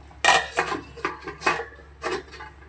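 A lid is set onto a cooking pot of potato curry, giving a cluster of close metallic clatters and scrapes, several short knocks spread over a couple of seconds with no talking.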